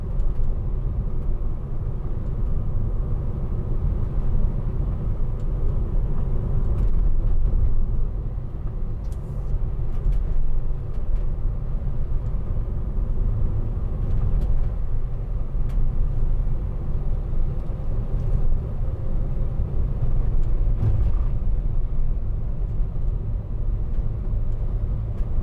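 Steady low rumble and road noise inside a 2009 Mercedes-Benz Vito 115CDI diesel van travelling over a bumpy road, continuous and fairly loud, with faint knocks and thumps from the suspension.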